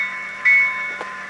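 A model locomotive horn from a Tsunami sound decoder in a Proto 2000 BL2 sounds as one loud, steady, sustained tone over a constant hum, with a brief click partway through.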